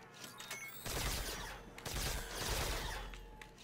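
Sustained gunfire in Call of Duty: World at War custom zombies, a dense, loud roar of continuous shots with a few sharper bursts, close up and without talk.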